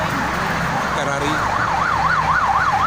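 Wailing electronic siren of a police patrol car on the Jakarta–Cikampek toll road, rising and falling in a steady rhythmic sweep over a constant roar of busy traffic, loud and continuous.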